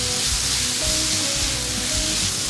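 Sliced zucchini stir-fries in a pan in its own released liquid with little cooking oil, giving a loud, steady sizzle and hiss with faint stirring scrapes underneath.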